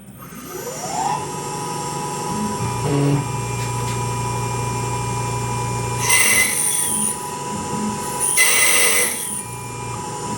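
Cheap drill bits spin up and bore on a Tormach CNC machine, giving a steady whining hum with a rising tone, a short pitch drop, and two harsh bursts of cutting noise later on, loud and close.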